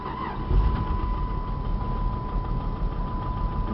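A Chrysler 300M in need of motor repair runs with a steady, close, low engine drone that holds evenly from start to finish, with no talking.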